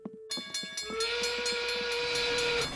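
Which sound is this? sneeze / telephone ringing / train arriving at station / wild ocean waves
train arriving at station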